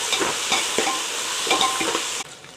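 Ginger, garlic and mint sizzle and crackle steadily in a hot pan while being stirred. The frying is close and loud, then drops off abruptly near the end.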